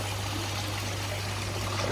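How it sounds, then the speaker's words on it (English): Water bubbles and splashes steadily in a backyard koi pond, a constant dense gurgling wash with a low steady hum from a pump underneath, fairly close and with no voices. "Bubbling away a bit,"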